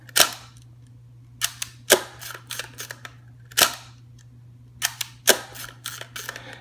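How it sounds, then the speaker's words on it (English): A Hasselblad 500CM medium-format camera with mirror lockup and rear doors open fires its leaf shutter at one-eighth second, giving a series of sharp, close mechanical clicks and snaps in separated bursts over a low steady hum. "This will allow you to hear the shutter more accurately."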